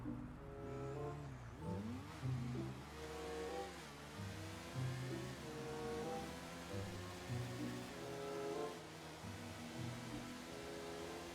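A Nagasaki Shinobi motorcycle in GTA 5 revs hard and steadily, its engine pitch climbing and dropping through repeated gear-like sweeps, loud and close with no talking.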